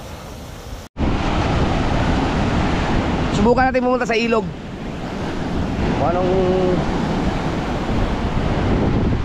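Strong monsoon wind roars steadily over rough, rising floodwater near a river, a loud continuous rush of wind and waves, with someone speaking Filipino briefly partway through.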